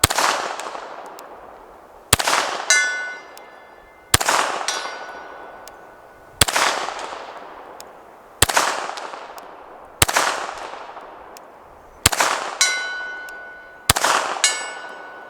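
Eight Beretta Cheetah .380 pistol shots fired at steel targets, each a sharp crack chased by a ringing metallic clang, spaced about two seconds apart and loud and close.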